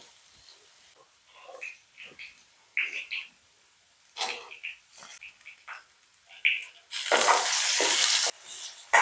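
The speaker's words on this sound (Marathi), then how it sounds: "फोडणी झालेली आहे." A phodni tempering for khichdi sizzling in a hot pan, with short crackling bursts and hisses scattered through the clip and a loud, sustained sizzle rising near the end.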